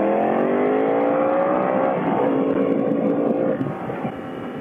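Ducati Diavel motorcycle engine running loud and steady nearby with rising harmonic revs, the pitch sweeping upward and then settling lower as it eases off near the end.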